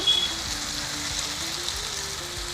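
Coconut milk poured into a pan of boiled vegetables for a Kerala vegetable stew, giving a steady close sizzle and bubbling hiss with no voices.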